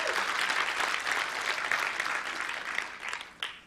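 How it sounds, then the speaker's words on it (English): A conference audience gives a round of applause, dense and sustained clapping that tapers slightly toward the end, with no voices over it. "Could we give them a round of applause?"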